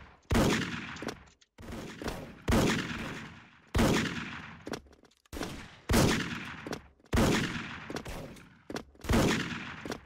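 Gunfire in the Special Force shooter video game, loud sharp bursts of shots repeating in a steady rhythm roughly every second or two, with brief gaps between volleys.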